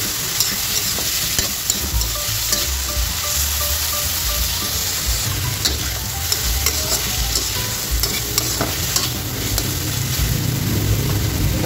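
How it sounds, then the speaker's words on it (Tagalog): Onion and tomato frying in hot oil for scrambled eggs, a steady close sizzle with occasional stirring clicks running throughout, with no talking. "Ayan guys, nakapaglagay na tayo ng mantika. Ilalagay na natin guys yung ating sibuyas at kamatis."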